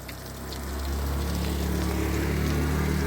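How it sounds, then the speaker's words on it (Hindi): Mountain spring water flowing in the rainy season, a steady splashing trickle with a low rumbling undertone that swells slightly in the first second and then holds even, with no talking. "आजकल बरसात के दिनों में इस तरह पहाड़ों में जगह जगह पानी"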